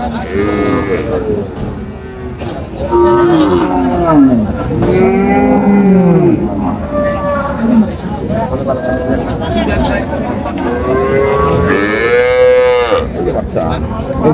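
Improved-breed milk cows and calves bellow again and again at a bustling livestock market in Dinajpur, long loud moos layered over one another with a faint bleat-like call mixed in and background crowd noise throughout.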